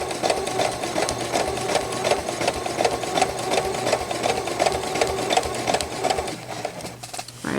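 A sewing machine stitches a quilt block slowly and steadily with a dense, continuous mechanical whir and rapid needle rhythm, close and loud, before easing off near the end.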